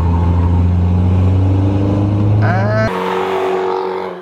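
A Toyota AE86 Corolla engine drones loudly and steadily on a race track, the pitch holding then shifting as it revs, with a voice speaking briefly over it near the end.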